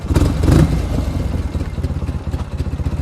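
An MT Dnipro motorcycle engine idling close by, a steady low, loping putter with rhythmic pulses and a brief louder rev near the start.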